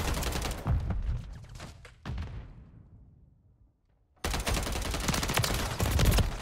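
Loud bursts of gunfire in Call of Duty: Modern Warfare 3 on the Favela map crackle in rapid volleys, fade into a brief quiet, then erupt again in heavy sustained shooting.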